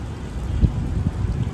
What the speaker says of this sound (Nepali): ल खत्रै हावा लाग्यो अहिले